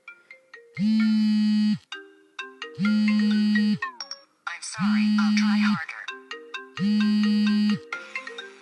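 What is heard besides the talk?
custom phone ringtone playing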